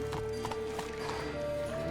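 Clip-clop hooves of the horse Roach galloping in The Witcher 3, a quick steady rhythm at close range with game music tones underneath and a faint voice.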